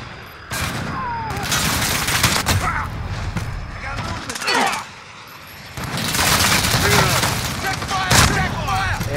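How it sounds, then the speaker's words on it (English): Loud gunfire in a battle royale video game: sustained bursts of rapid automatic shots and scattered single cracks, dense and close, with people talking over the action. "I keep accidentally shooting my teammate."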